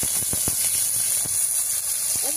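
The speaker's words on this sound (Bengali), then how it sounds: "এবারে এই সবজিগুলো ভেজে নেব" Carrots, peas and beans fry in a pan with a continuous hiss and sizzle, broken by a few sharp clicks and taps, the frying close and fairly loud.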